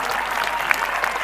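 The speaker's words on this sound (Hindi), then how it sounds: "एक बार राहुल भैया पर जोरदार ताली बजा दो" Audience applause at a bhajan gathering for a guest, a steady crowd clapping texture with a few sharper individual claps standing out.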